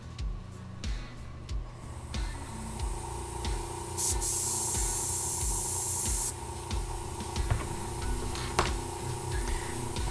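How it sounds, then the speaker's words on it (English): An airbrush sprays paint onto a model in short hissing bursts, with one longer, steadier spray near the middle and faint handling clicks between. "I will only airbrush from under the model"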